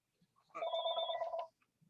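A telephone rings once, a short bright electronic trill lasting about a second, fairly close and alone in an otherwise quiet room.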